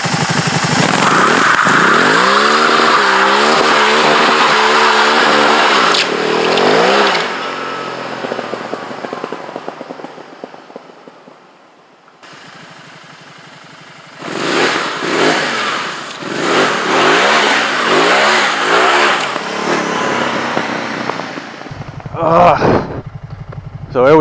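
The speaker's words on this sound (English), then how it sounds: "See if we can get a little drifting going." A Can-Am Spyder three-wheeler with a custom tune revs hard while drifting, its engine note rising and falling in repeated loud sweeps, dropping to a low idle midway before surging again.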